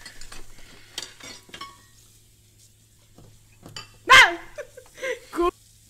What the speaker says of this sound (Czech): jdeme umýt nádobí, splníme všechny naše povinnosti